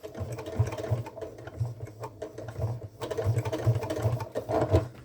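A sewing machine stitching through thick tote bag fabric and strap layers thumps in a quick, even mechanical rhythm, close and clear, with brief pauses as it labours through the material.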